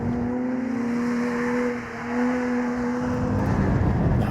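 Porsche Cayman sports car driven hard through corners, its engine holding a steady tone that dips briefly and then climbs again, close and continuous, with no voices.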